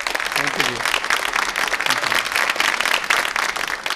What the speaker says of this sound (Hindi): भरपूर तालियों में इस्तकबाल कीजिए आरिफ अंसारी साहब का